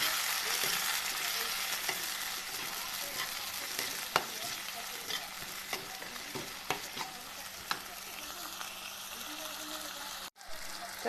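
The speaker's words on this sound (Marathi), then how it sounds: "आता टाकू आपण टमाटर आणि धनिया आता ह्यातच टाकणार आहे मी लाल तिखट नमक आणि हळदी" Tomato, coriander, red chili powder, salt and turmeric go into a sizzling kadhai of green chilies and onion for dal tadka, with steady close frying hiss and occasional stirring scrapes and clicks.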